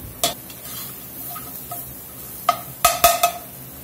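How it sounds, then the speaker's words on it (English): Spices toasting in a pot for cube steak chili, a light sizzle under a series of sharp stirring scrapes and clinks against the pot, louder toward the end. "Right, we got our spices toasted."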